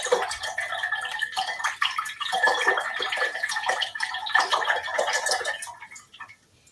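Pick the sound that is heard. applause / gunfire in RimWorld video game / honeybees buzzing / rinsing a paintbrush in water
rinsing a paintbrush in water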